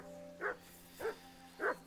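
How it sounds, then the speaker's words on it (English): A dog barks three times in the video game Kingdom Come Deliverance II, short evenly spaced woofs that sound fairly faint and distant over a quiet, humming background. "Jesus, Henry, that barking's driving me nuts."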